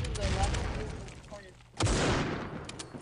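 Grenades are thrown and detonate during a Critical Ops match, with gunfire-like bursts and then one loud, sudden blast about midway that rumbles on, as a voice talks faintly underneath.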